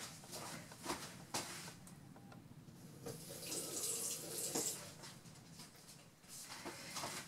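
Water runs from a tap installed in an attic workroom, a soft steady splash with brief clatters and knocks around it, fairly quiet and without speech.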